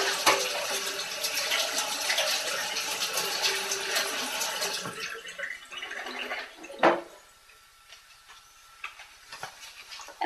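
Tap water runs steadily while soaked almonds are rinsed in a kitchen. Dense rushing water fills the first half, then stops, followed by a few scattered clinks and knocks of the nuts and bowl.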